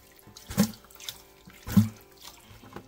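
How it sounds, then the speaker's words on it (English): Gold panning concentrates splashed from a bucket into a kitchen strainer, two distinct watery splashes a second apart with trickling and dripping water between them. "very carefully as I splash it into my kitchen strainer"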